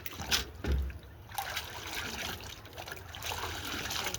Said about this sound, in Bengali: ভালো করে গাছটা ধুয়ে জল দিয়ে দেবো।